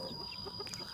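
Young chicks in a brooding cage during the early rearing period, a brief burst of soft cheeping calls close by over a steady background hum, no talking.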